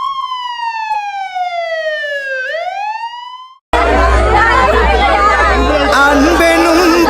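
An ambulance siren wails, sweeping up and down loudly for a few seconds, then cuts to a dense, noisy crowd din with voices.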